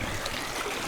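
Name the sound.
river flowing in forest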